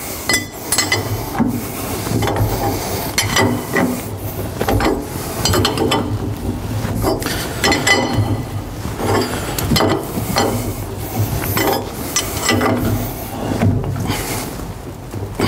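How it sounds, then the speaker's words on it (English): A spanner tightens a filter housing to its torque setting, giving repeated metallic ratcheting clicks and clanks in uneven bursts, close and fairly loud, with no talking. "then we get the correct spanner again, and we'll tighten up to the, the required torque setting"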